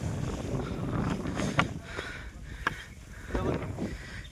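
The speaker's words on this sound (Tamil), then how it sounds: "கிட்டத்தட்ட 7வது மலை ஏற ஆரம்பிச்சதுலேருந்து காற்று பயங்கரமாக அடிக்குது." Strong wind gusting on the climb up the seventh hill of the Velliangiri hills, a steady low roar of buffeting against the microphone with a few sharper gusts, close and loud throughout.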